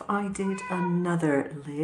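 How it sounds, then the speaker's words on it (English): Pet cat meowing for attention indoors, a few whiny, drawn-out meows mixed with a person's nearby speech. "that's my cat whinging at me because he's not getting any"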